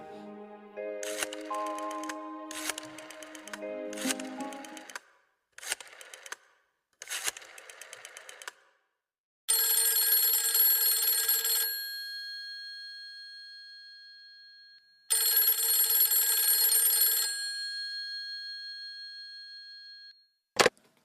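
A telephone rings twice in an audiobook sound effect, each ring a bright electronic burst about two seconds long that fades out, with a short chirpy tonal jingle before the rings.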